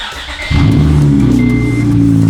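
An Acura TL engine cranks and catches, then settles into a loud, steady idle close by, with no talking.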